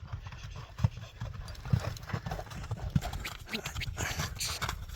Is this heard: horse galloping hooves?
yes